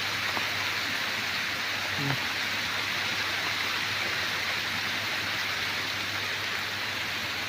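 Heavy rain pours in a dense, unbroken hiss, with a brief faint thump partway through.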